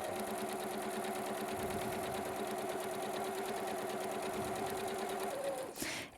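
A sewing machine stitches a flat felled seam close to the fabric edge, running at a steady fast hum with a rapid needle rhythm for about five seconds before slowing and stopping with a soft clunk.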